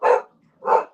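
A dog barks twice, close and loud, with a short pause between the two sharp woofs and no talk around them.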